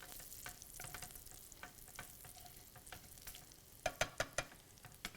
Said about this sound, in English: And now we've rendered off some delicious bacon.